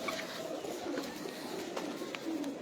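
Domestic pigeons of an old rooftop breed coo softly at mid-distance, a few low, throaty calls rising over a dull, steady outdoor background with no one talking.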